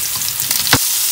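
Mushrooms sizzle steadily in a hot pan, with a brief scrape or stir partway through.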